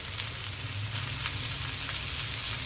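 Chicken legs coated in spice masala fry slowly on low heat in a pan, giving a steady, even sizzle with soft crackling throughout and no voices.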